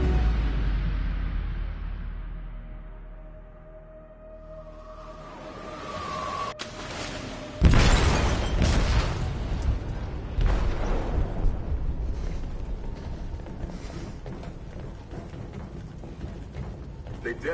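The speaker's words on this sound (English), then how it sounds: "They detonated an explosive in the hold." A bomb detonates in a ship's hold in the video game Detroit: a low rumble and tone build, then a sudden loud blast lands, followed by sustained crashing and roaring debris noise.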